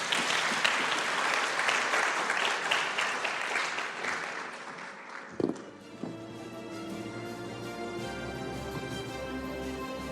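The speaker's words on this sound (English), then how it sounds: "Can we have a round of applause for our panelists, please?" A conference audience applauds panelists after a business discussion on AI, data and sustainability in Malaysia: steady clapping for about five seconds that fades, then quiet room tone with a few faint knocks and a low hum.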